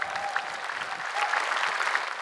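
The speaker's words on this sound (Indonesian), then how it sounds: "saya boleh enggak minta tepuk tangan sekali lagi buat Yudi?" A television talent show audience gives steady, dense applause for the contortion acrobat Yudi, with a fairly even crowd roar throughout.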